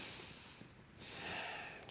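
A person breathes in deeply while standing feet together at the start of a tai chi eight-form, an audible airy inhale followed by a pause and another breath, close and alone.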